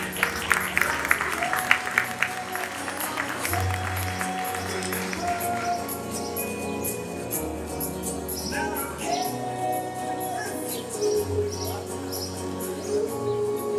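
Audience applause at a school graduation ceremony for eighth-grade students, a dense crowd clapping that starts strong and continues steadily, with some voices and background sounds mixed in.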